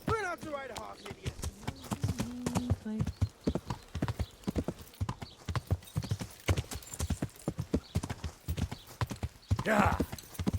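A horse's hooves clip-clop at a steady walking rhythm in Kingdom Come: Deliverance, with a whinny near the start and voices talking over much of the sound.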